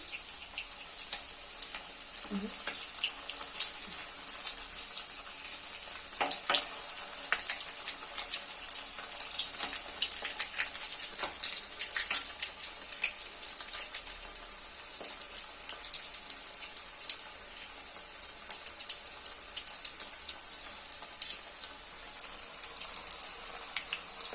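Vegetable chops frying in hot oil, a steady bright sizzle with scattered pops and crackles throughout, moderately close, no voices.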